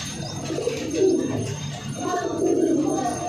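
Pigeons, high-flier birds sold at a market, coo in repeated low throaty phrases close by, two swelling bursts over a steady murmur of market background.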